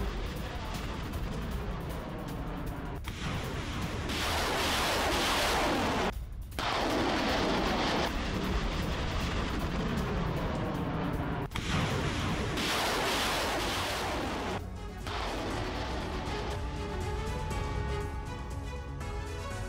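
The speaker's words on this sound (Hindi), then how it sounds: "मल्टीपल लॉन्च रॉकेट सिस्टम से हमले किए गए हैं, यूक्रेनी मिलिट्री पोस्ट को इस अटैक में भारी नुकसान की भी खबर।" Heavy rocket artillery from a multiple launch rocket system strikes a Ukrainian military post, with loud, rumbling blasts and sustained roaring salvos broken by sharp pauses, while a voice talks over parts of it.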